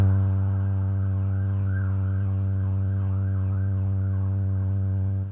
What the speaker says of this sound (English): You hear those sirens? Let's wait for those cops to zoom past.